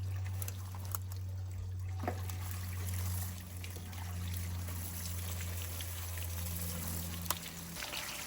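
Water drains steadily from the hot water tank of a 2023 Wolf Pup 22-foot travel trailer, a soft continuous trickle over a low steady hum, with a few faint clicks.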